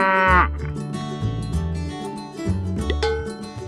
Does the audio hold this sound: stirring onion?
no